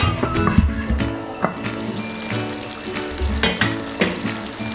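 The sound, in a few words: mixing mango chicken frying in a pan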